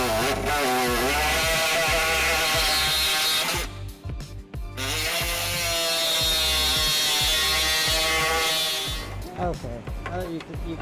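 A power tool whines as it trims out a hole in the frame of a 2002 Nissan Altima to install a trailer hitch. The tool runs in loud, sustained stretches that stop briefly twice and then start again.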